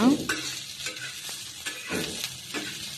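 Onion and garlic fry in oil on a well-heated pan, with a soft continuous sizzle broken by repeated scraping stirs of a spatula.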